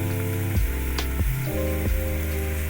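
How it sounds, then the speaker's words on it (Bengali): Fried green banana pieces go into a sizzling pan, a short close burst of hissing frying punctuated by a few quick clinks and scrapes, with no voices. "এবার দিলাম কাঁচকলা ভাজা,"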